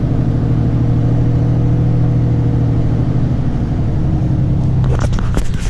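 A Ram truck on a test drive rumbles with a steady low engine drone heard from inside the cab, ending with a few sharp clicks and knocks.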